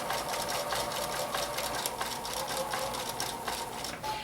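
Sewing machine stitching fabric appliqué for an autumn table topper, a close steady mechanical whir with rapid rhythmic needle pulses running continuously, with no talking.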